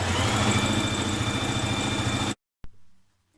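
A sewing machine runs steadily, stitching around the outer curved edge of a skirt belt piece, a continuous loud motor hum that cuts off abruptly and is followed by a brief clunk.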